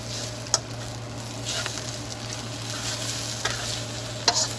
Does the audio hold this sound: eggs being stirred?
yes